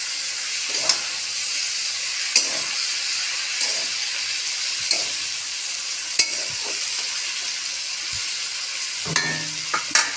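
Small chuno fish frying in a pan give a constant hissing sizzle, and a few sparse spatula knocks and scrapes sound over it at close range, with no speech.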